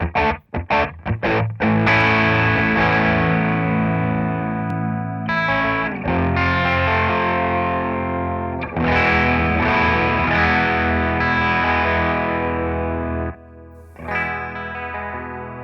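A 1978 Ibanez Iceman electric guitar played through distortion and a 1976 Roland DC-50 digital chorus, with loud, sustained, swirling chords ringing continuously after a few quick stabs, briefly cutting out near the end before resuming.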